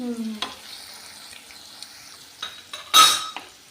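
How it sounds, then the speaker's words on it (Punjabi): A tadka of oil with deggi chilli and finely chopped coriander sizzles in a pan while a utensil stirs and scrapes, with sharp metallic clinks and a louder scrape near the end, no talking. "ਲੋ ਆਪਣਾ ਤੜਕਾ ਬਣ ਕੇ ਤਿਆਰ ਹੈ"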